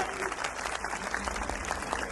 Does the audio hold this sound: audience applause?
yes